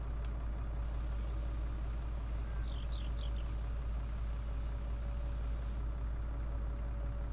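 Low-powered farm tractor in Farming Simulator 19 idling steadily with a constant low engine drone, close and unchanging, with faint birdsong chirps briefly above it.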